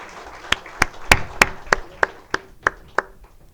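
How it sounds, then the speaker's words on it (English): At the Karnataka State Financial Inclusion Conclave, an audience gives a round of applause, heard as about ten separate, evenly spaced sharp claps, fairly quiet and fading slightly toward the end. "Please round of applause for this."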